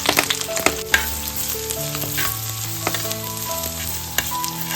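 Steady frying sizzle of garlic and onion in a pan with scattered clicks and taps, and a low tonal hum running underneath; no one speaks.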